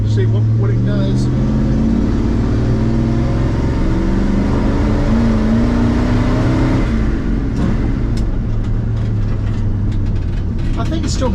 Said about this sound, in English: Just kind of roll into it in second gear, maybe get it in 4-barrel just a little bit, see what it does.